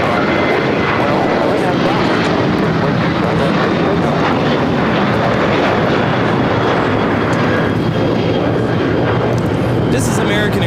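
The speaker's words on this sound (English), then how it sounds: "This is American Airlines 1668 taking off to Phoenix on a 737-800." American Airlines Boeing 737-800 airliner taking off for Phoenix, a loud, continuous broadband engine roar that holds steady throughout at close range, with faint voices underneath.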